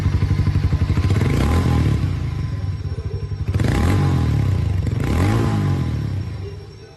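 A 2023 Harley-Davidson X440 motorcycle idles with a rapid, close, pulsing exhaust thump, then swells in two blips of revving before settling back to a steady beat.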